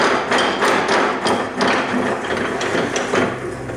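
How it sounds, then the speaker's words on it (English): A drill bores a hole in a pen blank while a ballpoint pen is being made, giving a loud, close grinding roar with rhythmic pulses and knocks as the bit is pushed in and pulled back. "let me make sure that drill's aligned up"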